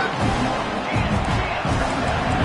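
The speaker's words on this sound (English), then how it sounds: "Listen to the crowd energy here in the early going." Stadium crowd in the College Football 26 video game, LSU hosting Tennessee, roaring steadily as a dense, continuous wash of noise that stays loud and unbroken throughout.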